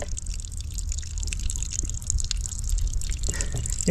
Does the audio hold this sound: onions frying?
no